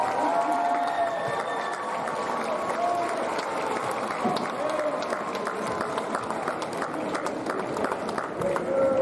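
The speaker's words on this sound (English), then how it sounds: "how about we give one big round of applause for the senior class of 2022" A crowd in a high school gym at a boys' varsity basketball game between Kellogg and Wallace applauds the senior class of 2022. The clapping is dense and sustained for about nine seconds, with scattered cheers and faint voices underneath.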